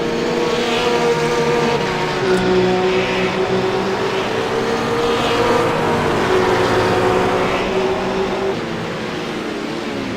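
McLaren GT3 race cars in a sim racing game at Silverstone, dicing through Beckett's toward Hangar Straight, give a loud, continuous engine drone whose pitch rises and falls with throttle and gear changes, with no talk over it.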